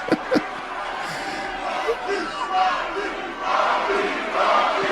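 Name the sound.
wrestling crowd cheering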